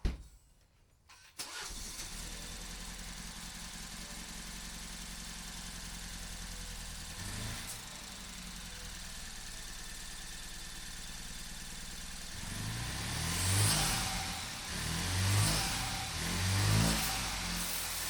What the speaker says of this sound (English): This thing is knocking.